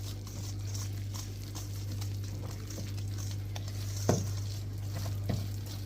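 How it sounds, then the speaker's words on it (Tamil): Brownie batter mixed by hand in a bowl, a soft continuous scraping and stirring with light taps, over a steady low hum and a couple of sharper knocks. "நல்லா இப்போ மிக்ஸ் பண்ணுங்க."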